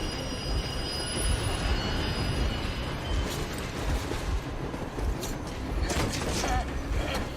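A train rolls past in the game Metro Exodus with a steady, loud rumble of wheels and clanking cars. Faint metallic squeals and creaks rise over the noise, which holds near and constant the whole time.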